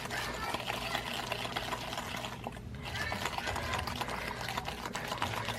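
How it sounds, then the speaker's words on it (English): Dalgona coffee being whisked by hand in a bowl, a steady rapid rattling whir that runs continuously and fairly close, dipping briefly midway before resuming at the same brisk pace. "So I've been whisking now for about 2 minutes."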